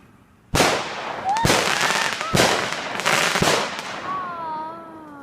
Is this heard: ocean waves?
no